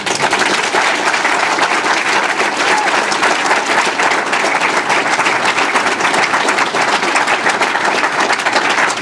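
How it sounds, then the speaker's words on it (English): A large audience at a January graduation ceremony applauds, a loud, dense, steady wash of clapping from many hands that fills the hall throughout. "Dr. Tiffany Tyler, please give her another round of applause."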